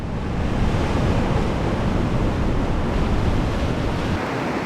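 Ocean waves break and roll steadily onto Periwinkle Beach on Tasmania's west coast on a calm day, a dense, continuous wash of surf with wind noise buffeting the microphone.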